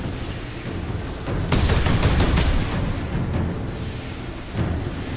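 Gunfire rips through a Warhammer 40,000: Space Marine battle against cultists, a loud sustained burst of rapid shots and booms in the middle, with lighter firing and impacts before and after.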